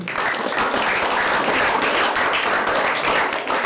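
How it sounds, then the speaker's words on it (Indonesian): A large seminar audience bursts into sustained applause, dense clapping filling the space at steady loudness throughout without letting up. "Tepuk tangan dulu."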